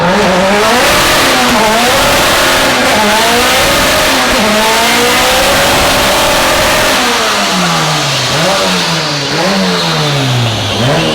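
A turbocharged K-series engine in an FRS screams on a dyno pull, loud and close, its pitch sweeping up and down repeatedly through revving bursts without pause.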